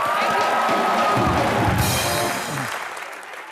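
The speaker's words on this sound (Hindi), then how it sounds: "एक बार दीपिका अर्जुन के लिए जोरदार तालियां।" Studio audience on an Indian comedy talk show applauds and cheers loudly for two film stars, a dense roar of clapping with whoops that holds strong and then tapers off near the end.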